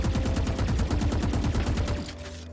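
Rapid automatic hip-fire gunfire from a weapon in the Valorant video game rattles out in one continuous loud burst of evenly spaced shots, then cuts off with a brief ringing tail.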